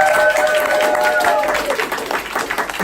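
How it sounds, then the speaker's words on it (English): A live audience applauds after a juggling attempt at a talk, the clapping loud and steady across the moment, with voices and a bit of chatter mixed into the crowd noise. "let's give CC a big round of applause"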